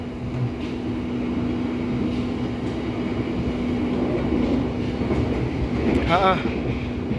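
An empty KRL electric commuter train rumbles past near Cikarang, heading to stabling, with a low hum and rolling rail noise, a brief squeal near the end, faint voices underneath.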